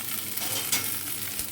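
Tomatoes and okra frying in a pan, a short burst of close, steady sizzling with a faint stir partway through and a brief louder scrape at the end.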